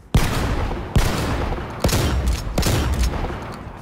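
Four punchy, booming gunshots from a weapon in the shooter game Dirty Bomb, spaced about a second apart. Each shot has a sharp attack and a rumbling tail that rings out before the next.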